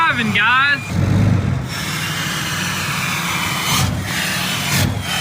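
A Ram TRX truck swapped to a Cummins diesel engine runs with a steady low rumble, and a voice talks briefly at the start.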